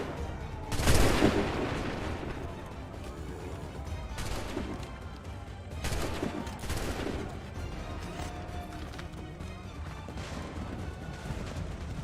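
A musket volley in the video game Assassin's Creed 3, with loud broadband gunfire bursts, the strongest near the start and more around four and six seconds, over a continuous battle din.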